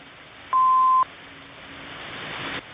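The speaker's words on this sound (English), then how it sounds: "just trying out a new Roger beep?" A single clean electronic beep sounds for half a second over radio static hiss, followed by a rising burst of noise that cuts off.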